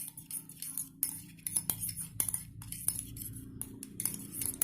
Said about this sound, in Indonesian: kita campurkan dan kita aduk sampai merata